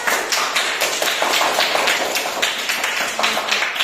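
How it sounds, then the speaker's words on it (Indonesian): A class of schoolchildren claps together in steady, fairly loud rhythmic applause, the rapid overlapping hand claps filling the room with little talk over them. "Tepuk tangan untuk kita semua."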